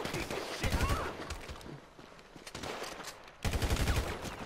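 Gunfire in the GTA 5 video game, heard as repeated bursts of loud shots in clusters with quieter gaps between them.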